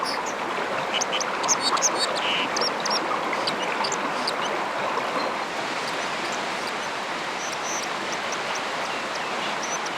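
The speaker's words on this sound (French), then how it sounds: "Rien de très mélodieux dans les strophes interminables du cincle." A white-throated dipper sings scratchy, metallic phrases beside a rushing stream and cascades. The bird's rasping notes are faint against the steady loud roar of the water, and no one speaks.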